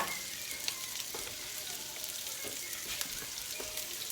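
Garlic sizzling and frying in a pan while being stirred, a continuous soft crackle with scattered pops and scrapes, fairly quiet and close.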